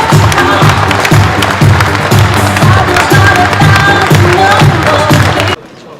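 An audience at a Korean political gathering gives loud, sustained applause mixed with crowd noise and cheering. It fills the clip and cuts off abruptly near the end.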